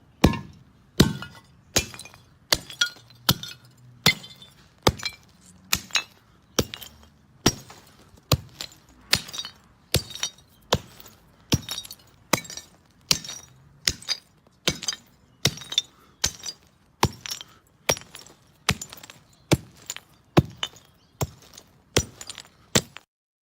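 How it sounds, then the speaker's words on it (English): A clay piggy bank being smashed: a long series of sharp, cracking strikes with clinking, shattering debris, about one hit per second, close and loud with no talk. "And I smashed a clay pig."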